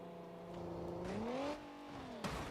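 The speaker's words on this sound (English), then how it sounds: "It just doesn't rev when I'm revving it." Car engine in BeamNG revs up with a rising tonal whine that peaks, then drops away, followed by a sharp knock and a steadier lower drone, fairly close with no talk.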